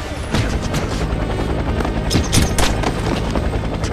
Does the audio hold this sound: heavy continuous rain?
no